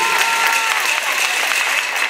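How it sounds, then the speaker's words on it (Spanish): Strong, dense applause from a crowd at an outdoor political campaign rally for a local deputy candidate in Puxtla, steady and loud throughout with no pause. "al licenciado Domingo Huicochea Casarrubias, quien recibimos con un fuerte aplauso"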